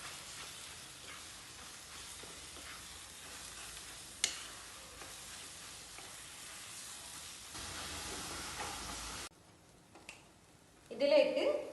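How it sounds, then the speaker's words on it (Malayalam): Mashed potato and onion filling for aloo paratha is stirred in a hot pan, with a soft continuous sizzle and hiss and occasional scraping knocks, ending in a quieter stretch and a brief louder clatter. "ഇതിലേക്ക് ഈ ആക്കിയ ഉരുളക്കിഴങ്ങ് അങ്ങ് തട്ടുക, ഇതിനെ നല്ലോണം യോജിപ്പിക്കുക."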